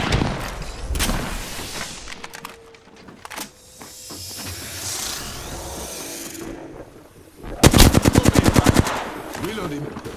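Weapons fire in the Apex Legends video game: scattered single shots and short bursts, then a loud, rapid automatic volley near the end, mixed with other game effects and brief quiet stretches.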